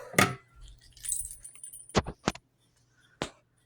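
A set of keys is dropped and jangles with a metallic clatter, followed by a few sharp clinks as they settle, each one close and distinct amid quiet gaps.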